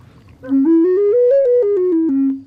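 A Native American drone flute's melody side plays a clear, breathy tone that steps up through several notes and then back down, each note held briefly, loud and alone.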